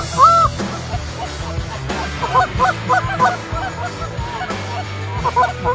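Canada geese honk during an afternoon hunt, scattered nasal calls at middle distance, some overlapping in a ragged flurry, over a low background rumble.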